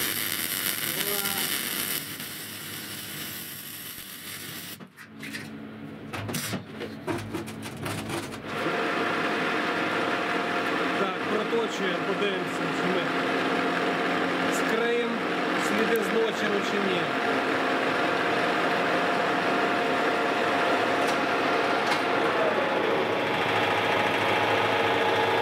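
A metal part being turned on a Schaudt AR1500 lathe in a workshop, a steady whirring machine drone with cutting chatter, briefly interrupted by sharp clattering before the continuous machining resumes; talk is heard at times.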